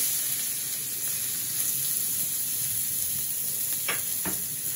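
Chopped onion and garlic sizzle steadily in a little oil, a constant close hiss with a couple of brief sharper crackles near the end.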